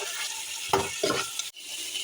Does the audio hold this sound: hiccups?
no